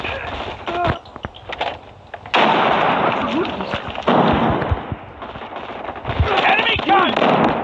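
Enemy machine gun fire in a Call of Duty video game rattles in loud, dense bursts, mixed with shouting voices and other battle noise.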